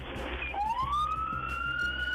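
A police car siren sweeps upward into a high, sustained wail, loud and fairly close, over low background noise.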